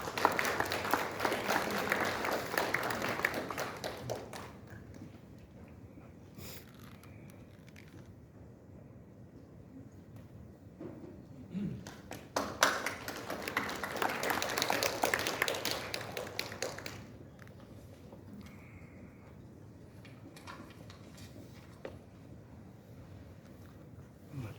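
An audience at a Korean anniversary ceremony and patriotism award event gives a big round of applause for the chairman, Son Byung-doo. Two bursts of crowd clapping, each about five seconds long, are separated by quieter stretches with scattered taps and footsteps.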